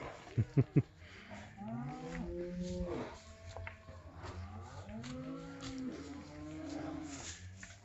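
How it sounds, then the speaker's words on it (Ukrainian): Several cattle bellow from inside a cowshed before being let out to graze at the start of the season, long overlapping moos rising and falling back to back at close range, preceded by a few sharp knocks. "а в коровнику рьов, вони вже знають, чи їх випускатимуть"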